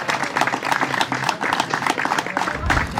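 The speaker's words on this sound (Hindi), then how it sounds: "एक बार चलिए प्लेयर लोग भी जोरदार ताली कर दीजिए" An audience claps for the players at an institution-wide volleyball tournament, a dense burst of applause filling about three seconds before it tails off.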